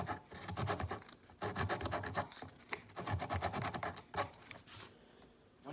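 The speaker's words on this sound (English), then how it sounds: "Sanding it is really easy when plastic is hot." Steady rasping scrape of sanding hot plastic on a turbo inlet pipe, repeated strokes in quick bursts with brief pauses, close and fairly quiet, no voices.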